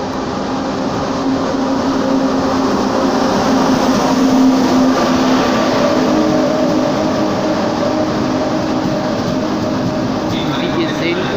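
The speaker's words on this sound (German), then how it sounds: "So Leute, da kommt noch mal ein Zug ein." An Italian high-speed train arrives with a loud, steady rumble and droning whine that continue throughout, while someone talks over it.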